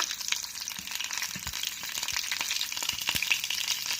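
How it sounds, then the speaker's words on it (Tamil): Mustard seeds, chana dal, urad dal and green chillies fry in hot oil for bitter gourd poriyal, a close, even crackling sizzle with sharp little pops throughout, no speech. "கடுகு பொரிஞ்சதும் கொஞ்சம் கடலைப்பருப்பு, கொஞ்சம் உளுத்தம் பருப்பு போட்டுட்டு நம்ம வச்சுருக்க பச்சை மிளகாயும் போட்டுக்கோங்க"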